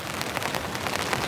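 Light drizzle falling at a rainy campsite with misty mountains nearby, a soft steady patter of fine drops heard alone and at low level.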